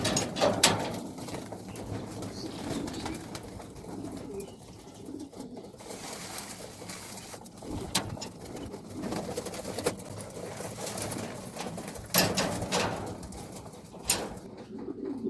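Pigeons coo softly and repeatedly nearby, with occasional wing flutters and light shuffling sounds as the birds feed.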